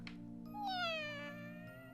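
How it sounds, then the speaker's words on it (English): A cat in a visual novel game gives a single clear, drawn-out meow that falls in pitch, close and moderately loud over a steady low background hum, with no talk. "The cat in her arms purrs happily."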